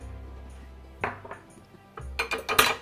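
Utensil scraping and clinking against a pan while chicken Rockefeller sauce is stirred, several close, sharp metallic knocks and scrapes in short bursts with no talking.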